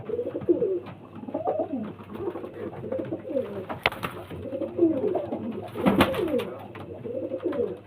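Several pigeons in a loft coo continuously, overlapping low throaty phrases close by, with a couple of sharp clacks or wing flaps cutting through.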